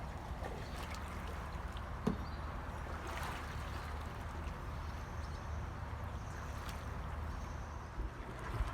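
A canoe paddled by two people, soft watery swishes and drips from the blades over a steady outdoor background, with one sharp knock partway through and no talk.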